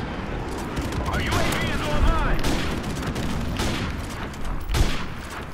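Video game gunfire in sustained rapid bursts, loud and close with repeated sharp cracks and heavy thumps, over a busy background with some speech-like sounds mixed in.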